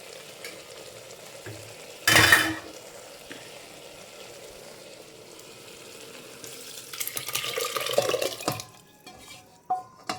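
Cooked dal mixed with tomato and tamarind is poured into a pot for radish sambar, producing a wet pouring slosh near the end after a brief clatter, with soft kitchen background throughout.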